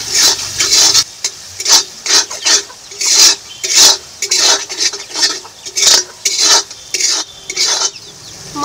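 Spice paste for a river fish curry, with salt and a splash of water, stirred and fried in a pan, giving rhythmic scraping and clinking strokes over a soft sizzle, close and fairly loud with brief pauses.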